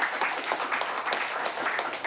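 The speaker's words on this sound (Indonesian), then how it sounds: "Tepuk tangan sekali lagi buat panitia kita semuanya." Brief, lively applause at a national congress of a Jakarta psychologists' association, honouring the organising committee; dense clapping with distinct individual claps, steady and fairly close for about two seconds.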